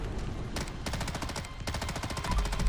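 Rapid bursts of SIG MCX Shrike rifle fire in Fallout 4, two sustained automatic strings separated by a short pause, loud and close with a sharp rhythmic crackle.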